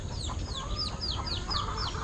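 Chickens, including a hen, chirp and cluck in a rapid run of repeated short calls close by over a low background rumble, with no talk.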